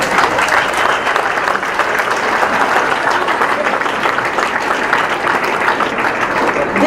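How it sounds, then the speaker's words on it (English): Students and families at a high school senior awards ceremony give a sustained round of loud applause, a thick, continuous wash of clapping from a large crowd lasting several seconds. "Students, please give your parents, friends, and teachers a round of applause."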